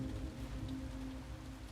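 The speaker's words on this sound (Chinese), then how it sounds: "这里下着大雨" Heavy rain pours in a continuous, quiet wash of hiss, with a low steady hum underneath and no voices.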